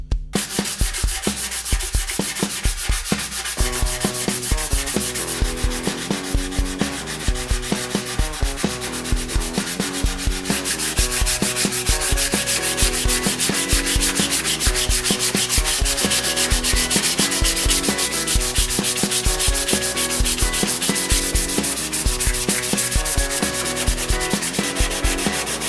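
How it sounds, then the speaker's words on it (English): Black finish is steadily rubbed back by hand on a scratch-built guitar body, an even, rhythmic scrubbing that continues close and loud throughout with no talk. "So I'm going to start to gently work my way right the way around this and get this black"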